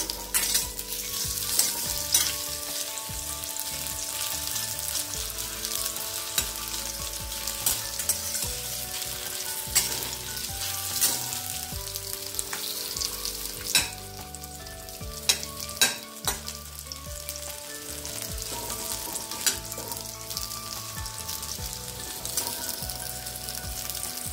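Sweet potato slices sizzle and fry in ghee in a pan over a medium flame, a continuous crackling hiss with occasional stirring clinks, close and steady, with soft background music and no talking.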